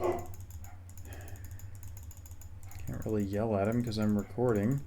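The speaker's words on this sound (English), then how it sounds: "Sorry about the dog." A pet dog barks and yips several times in quick succession close by, a loud burst of sharp, tonal barks that comes after a quieter stretch of keyboard typing and a voice.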